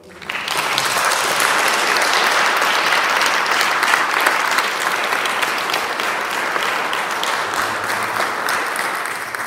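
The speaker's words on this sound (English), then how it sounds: "I think we can give him a round of applause" Sustained applause from a congregation at a wedding mass, steady and full for several seconds after a quick onset, with a faint voice briefly underneath.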